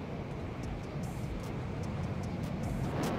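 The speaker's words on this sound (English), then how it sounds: "You can clearly hear that he's somewhere on the right, because the engine of this jet making a lot of noise." An opponent's jet engine roars in a combat flight game featuring the F-160 Raiju, a steady, broad rushing drone with faint intermittent high ticks, moderately loud and continuous, no speech.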